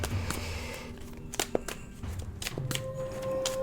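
A deck of cards being shuffled during a tabletop Town Builder game: quick riffling bursts and light taps of cards on the table, close and fairly quiet.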